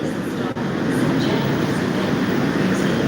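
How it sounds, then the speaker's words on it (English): An old K-set Sydney suburban train running nearly empty around the City Circle, a steady loud rumble of wheels and carriage noise heard from inside, with faint rattles throughout. "It's an empty train. It's just going around the circle."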